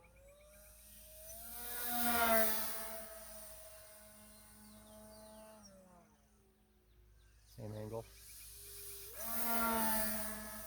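A 1.2 m E-flite Twin Otter radio-controlled twin-propeller plane flies at sunset with a propeller oscillation, giving a steady, wavering motor whine that swells, fades and returns, with brief talk nearby.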